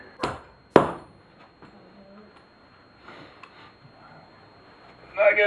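Tractor chain links being hammered together: two sharp, loud metallic strikes in quick succession, followed by quieter clinks and handling noise and a final clattering burst of metal.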